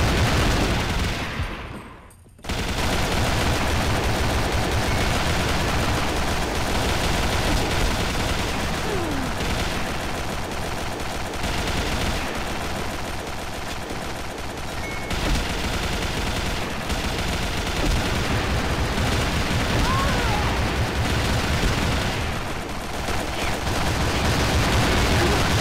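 Sustained automatic fire from the golden turbine machine gun MK5 in a video game, a loud unbroken roar of rapid shots after a brief drop near the start, continuing without pause to the end.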